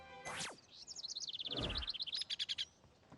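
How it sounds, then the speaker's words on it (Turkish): Birds chirp and trill in quick, bright bursts, with a fast repeated warble and a brief low rumble partway through; no talking. "Dinle. Kuşlar şarkı söylüyorlar."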